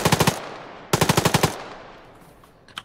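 Automatic rifle fire in the military video game Arma: two sharp bursts of about six rapid shots each, loud and close, separated by a brief pause, with a fading echo afterwards.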